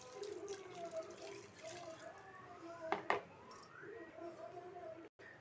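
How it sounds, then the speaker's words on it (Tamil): Lentil cooking water being poured into a green gram curry in a home kitchen, heard as a soft, splashing liquid pour with small gurgles. A voice talks over it. "இப்போ நம்ம எடுத்து வச்ச தண்ணியை ஊற்றிக்கலாம்."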